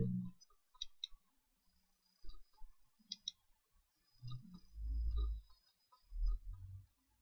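A few faint, sharp computer mouse clicks sound close by, with brief soft low thumps and rustles between them in an otherwise quiet room.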